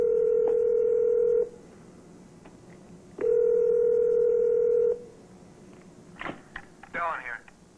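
Telephone dial tone heard twice in long steady bursts, followed by a quick run of keypad dialing tones as a cellular call is placed, with faint background noise between.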